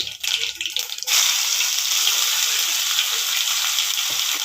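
Cumin, garlic, green chillies, curry leaves and spices hit hot oil for a coconut milk rasam, breaking into a loud, hissing sizzle after a second of rattling handling, then frying steadily and close.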